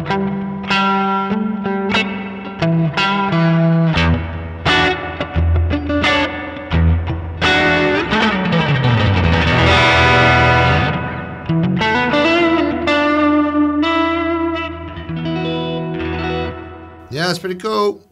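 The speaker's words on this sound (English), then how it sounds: "It does have that drippy, springy boing to it, doesn't it?" Electric guitar through the spring reverb of a Sonicake Matribox multi-effects unit, tone turned up, playing a continuous run of distorted notes and chords with a drippy, twangy reverb tail that fills the gaps, loud and close throughout.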